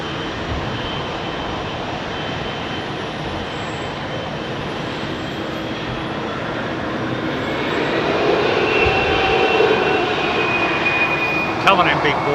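A GE-powered airliner rumbles steadily as it comes in to land at London Heathrow, a broad roar that swells louder near the end, with people talking faintly over it.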